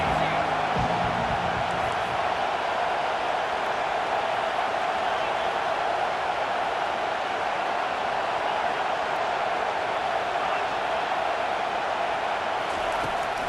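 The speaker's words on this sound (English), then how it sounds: "Decibels rising as the crowd gets behind this defense on third down." Packed stadium crowd at a Washington versus Texas A&M college football game, roaring steadily and loudly on a third-down defensive stand, a continuous wall of noise with no breaks.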